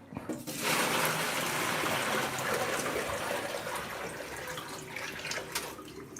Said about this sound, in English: let's pour this down the drain